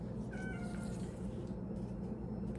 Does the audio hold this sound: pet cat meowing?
yes